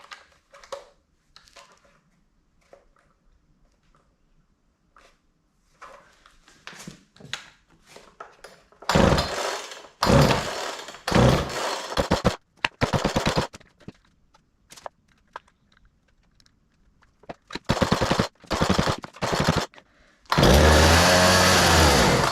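Poulan chainsaw being started: a series of sharp pull-cord bursts and brief sputters, then the small two-stroke engine catches and runs loudly and steadily at near full throttle, close up.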